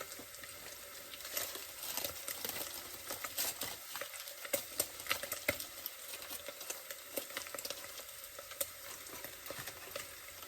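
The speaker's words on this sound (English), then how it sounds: "cook your shallot and your roasted garlic down in it" Shallots and roasted garlic fry in bacon grease with a steady, close sizzle and occasional stirring clicks and pops, no voices over it.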